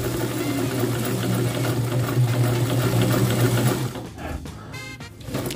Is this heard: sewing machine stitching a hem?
yes